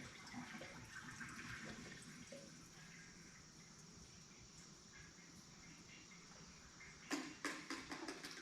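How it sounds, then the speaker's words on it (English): Leftover fuel from a Toyota/Lexus 4x4 fuel pump job is poured into an oil drain, a quiet continuous trickle and splash, ending with a few louder sloshing gurgles. "we're just going to dump the rest of this fuel over here. Into our oil drain."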